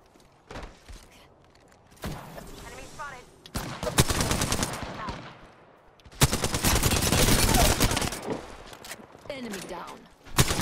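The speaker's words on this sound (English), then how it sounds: "They're shooting at me." Video game gunfire in bursts during a squad firefight, with rapid automatic shots swelling loud around the middle and late stretch, separated by quieter gaps where a voice talks.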